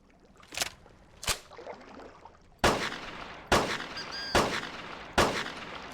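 A burst rifle fires in the hunting game Carnivores: two lighter shots, then four loud, sharp cracks about a second apart, each leaving a short ringing tail.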